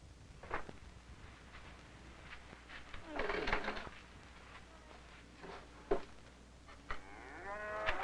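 Cows moo while being herded across lowland pasture, with a couple of low calls standing out in the middle amid faint farm ambience and rustling; a brief bird-like chirping trill closes the passage.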